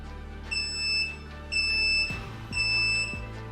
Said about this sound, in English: Nauticam's moisture alarm electronics are included